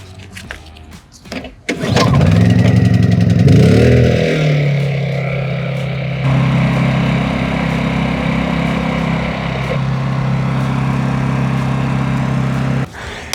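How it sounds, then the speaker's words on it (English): A Honda EU2000i portable generator is pulled to start, catches with a rising whir, then settles into a steady, loud, close hum that shifts slightly in pitch and keeps running without talk. "step one is you wanna start it and get it warm so it's easier to drain that oil."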